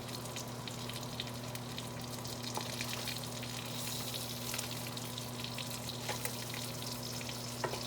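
Steady sizzling of spam and bacon frying in a hot pan, a continuous crackle with occasional pops, no talking.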